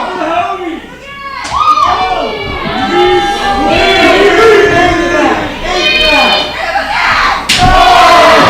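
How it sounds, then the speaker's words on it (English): A large arena crowd at a wrestling match roars and cheers loudly and continuously, swelling in waves with shouts rising above the din, while a commentator talks over it. "I woke the crowd up. You can hear that."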